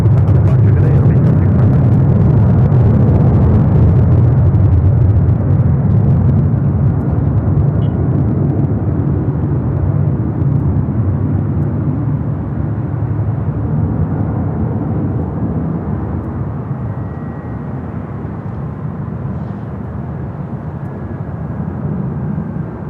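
A Delta airliner takes off from runway 24 left at LAX: a loud, sustained jet roar that stays broad and heavy, then slowly fades as the aircraft climbs away.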